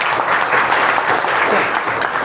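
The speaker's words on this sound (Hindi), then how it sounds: "ताली मारो रे" Students clapping in a classroom during a class 9 maths lesson, a dense, loud burst of applause from many hands, steady throughout and with no talking over it.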